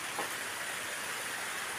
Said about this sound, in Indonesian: Posisinya masih hujan sekarang di tempat saya.